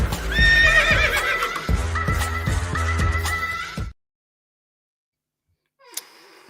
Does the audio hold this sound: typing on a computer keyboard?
no